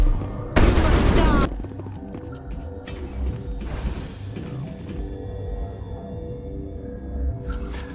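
Gunfire in the Mass Effect video game: a loud, dense burst of shots near the start, then scattered booms and mechanical clatter trailing off under game noise.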